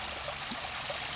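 A small, low-flowing waterfall in the woods during dry, hot weather, with water trickling steadily and softly throughout, a faint continuous wash of sound and no voices.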